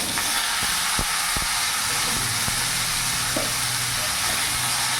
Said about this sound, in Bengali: পাঁচফোড়নটা যখনই ভাজা হবে, এখানে যতগুলো সবজি আছে পুরো সবজি আমি দিয়ে দেবো